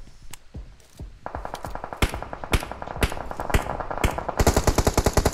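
Automatic gunfire in BGMI: sharp, loud shots in short spaced bursts that tighten into a fast rattling volley at the end, with no talk.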